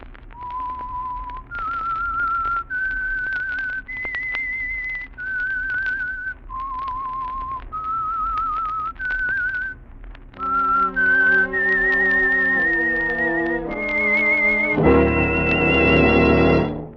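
A lone whistler performs the eerie theme signal of the radio suspense program The Whistler, a slow sequence of sustained, clear whistled notes, then orchestral chords swell in under the final phrases.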